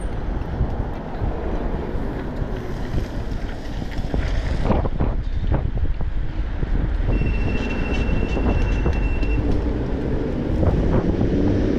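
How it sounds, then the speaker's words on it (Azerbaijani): Strong headwind roaring across the microphone while riding an e-bike into the wind in traffic, a constant heavy low rumble with gusty surges throughout and no speech. "Küləyə qarşı gedirəm."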